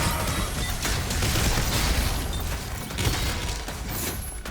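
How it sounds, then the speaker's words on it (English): Gunfire rattles without pause in the video game Doom: The Dark Ages, a dense, loud barrage of overlapping shots and impacts that stays close and carries on throughout. "Just keep shooting."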